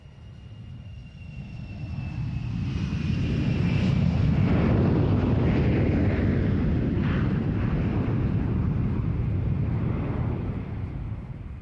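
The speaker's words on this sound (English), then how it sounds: "Here is another maritime patrol aircraft, the Beriev Mermaid." Beriev Be-42 Mermaid maritime patrol aircraft flying past at an air show, a deep broad jet roar that swells, holds loud, then eases slightly, with a thin engine whine above it.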